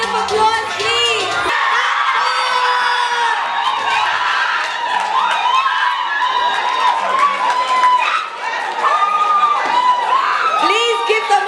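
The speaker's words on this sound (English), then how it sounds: "Please give them a round of applause." Loud, continuous crowd cheering and whooping at the finale of the Mr. and Miss Black Beauty Pageant UK 2016, with shrill shouts and voices layered over a steady roar for the whole stretch.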